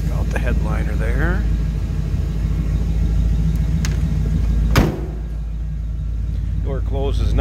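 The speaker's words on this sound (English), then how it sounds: "Door closes nicely." A single solid thud as the door of a 1952 Chevrolet 3100 5-window pickup swings shut, heard over the steady low rumble of its idling 350 engine, with someone talking before and after.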